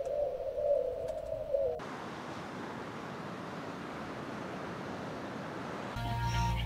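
Pigeons or doves coo in a scene from the low-budget movie Birdemic, a soft repeated call for the first couple of seconds before giving way to a steady rushing wash like surf.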